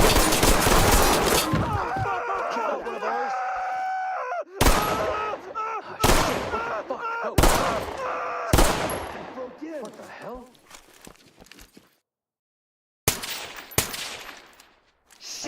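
Bursts of AK rifle fire in a video game, several loud separate volleys spread across the stretch, with dense rapid fire at the start and a brief silence before a final burst.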